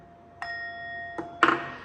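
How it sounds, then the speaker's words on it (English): A small handheld bell is struck three times, each a clear ringing ding with a sustained tone; the last strike is the loudest and rings on briefly over a quiet room. "I want to play this little bell for you"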